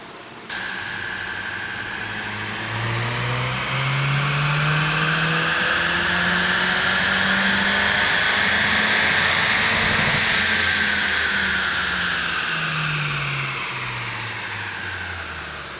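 A 2015–2022 Ford Mustang EcoBoost fitted with a front-mount intercooler revs hard through a dyno pull, its engine note climbing steadily and loudly, then easing back down, alongside a constant whooshing roar of fans.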